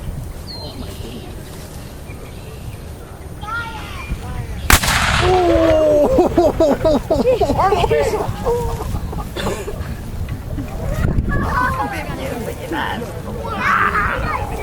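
Ceremonial cannon fired at the San Jacinto Monument, a single sharp blast cutting through an outdoor crowd, with loud, continuous chatter and shouting before and after, and rooster-like calls nearby.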